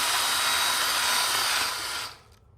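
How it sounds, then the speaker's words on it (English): A power drill countersinks a screw hole on a custom lightsaber mount with a steady, loud, high-pitched whirring grind up close that cuts off abruptly after about two seconds. "what you're going to do is you're going to countersink again right where that screw is"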